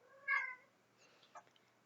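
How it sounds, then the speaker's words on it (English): A cat gives one clear, close meow followed by a couple of faint, softer sounds in a quiet room. "Sorry, that's my cat."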